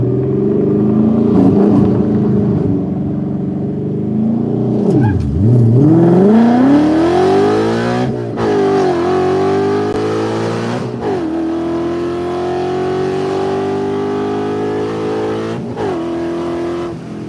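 A Coyote-swapped Cobra launches hard from a roll, its V8 roaring loud and close, revving up through the range with a brief bog, then shifting and pulling on through several gear changes.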